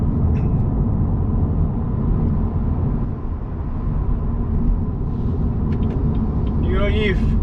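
A Mitsubishi Evo with a flashed gearbox drives in sport mode through heavy New Year's Eve traffic, giving a steady loud cabin rumble of engine and road noise, with brief voices near the end.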